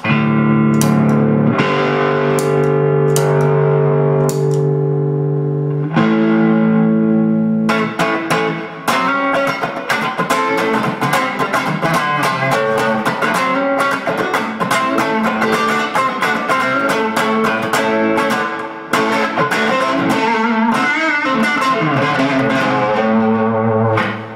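Electric guitar runs through an OKKO Diablo Plus overdrive pedal in a Texas blues style, with warm, gritty distortion. Sustained chords open into fast, busy licks, loud and continuous.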